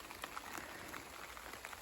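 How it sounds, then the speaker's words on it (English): Light rain beginning to fall over a muddy garden bed, heard as a soft, faint patter of scattered drops with occasional slightly sharper taps. "the rain's already started"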